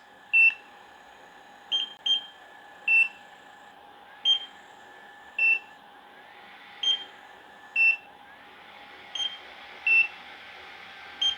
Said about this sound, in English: those beeps that you just heard, the NIRA making while I was applying it to my skin